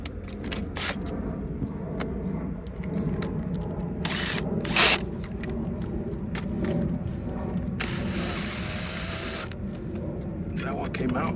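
A power drill whines in a few short bursts amid clattering and handling noises, close by, while dental office chairs are taken apart for scrap metal.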